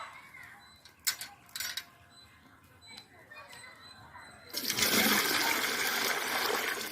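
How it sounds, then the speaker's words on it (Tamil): Water is poured into a cooking pot for a village-style tender coconut pongal, a loud continuous splashing pour that starts after a few quieter clinks and handling sounds and runs to the end. "ஒரு பானை வச்சு ஒரு அரை குண்டா தண்ணி ஊற்றிங்க."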